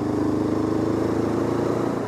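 Honda CL500 motorcycle climbing a mountain pass, its mid-pitched engine droning steadily at a fairly constant pitch under light wind rush, with no voices.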